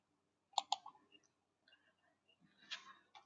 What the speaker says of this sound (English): click the rename button